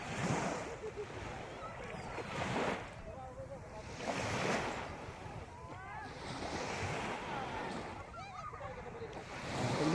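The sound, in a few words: ocean waves on a beach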